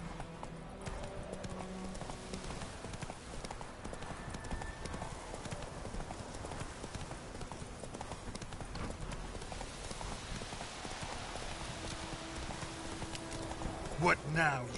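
Hooves clip-clop at a fast, steady gallop as a horse runs in The Witcher 3, a continuous rhythmic drumming that stays close and fairly quiet, with game ambience underneath.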